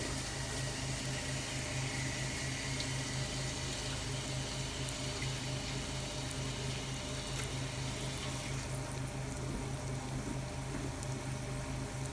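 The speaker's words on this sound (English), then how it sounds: "I'm going to rinse my hands off" Water runs steadily from a tap as hands are rinsed at a sink, a constant close splashing rush lasting about twelve seconds with no speech.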